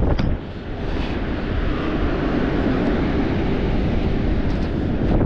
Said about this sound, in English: It got windy all of a sudden.